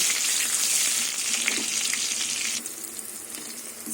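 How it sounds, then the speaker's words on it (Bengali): Eggplant frying in oil in a pan for a Bengali prawn and bottle-gourd-greens curry, a steady bright sizzle running throughout, close and loud, easing slightly partway through, with no talking. "এবার বেগুনটা ভেজে নেব"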